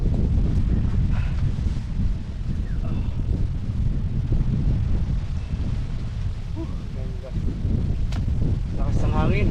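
Strong wind buffets the microphone at a mountaintop campsite, a steady, loud roaring rush with gusts throughout, and faint voices and bird-like chirps now and then beneath it.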